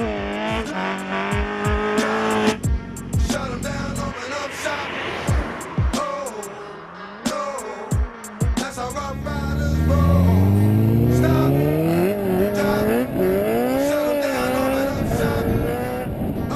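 A Honda CBR 1000 RR sport motorcycle engine revs in sharp bursts with crisp gear-shift cuts, then climbs in a long rising howl, loud and close, with a voice speaking over parts of it.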